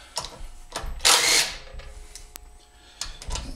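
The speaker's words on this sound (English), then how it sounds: "I'm gonna take out these two bolts." Short bursts of a power tool or driver taking out bolts on a Predator 212cc engine, with one louder whirring burst in the middle and clicks and clatter around it, close and clear.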